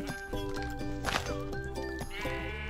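Sheep bleating in the Minecraft video game, several wavering bleats in quick succession over steady game music, fairly close and clear, with no talk.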